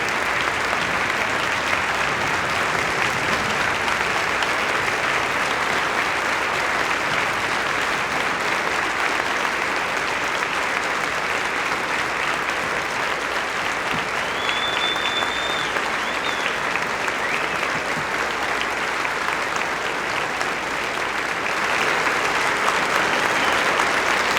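A crowd at a Veterans Day ceremony applauds veterans, steady sustained clapping from many hands filling the space for the full stretch, dense and even with no break.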